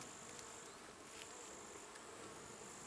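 Bees in a top bar hive hum steadily and close up, a continuous insect buzz with no pauses and no voices.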